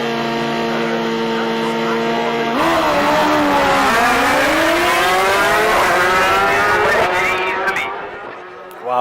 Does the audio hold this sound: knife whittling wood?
no